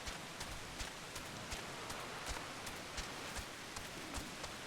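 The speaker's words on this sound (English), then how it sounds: "Oh, rainy out here." Steady rainfall in Final Fantasy XIV, a soft even hiss with faint regular pattering taps, quiet and ambient throughout with no voices.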